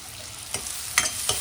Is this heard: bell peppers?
yes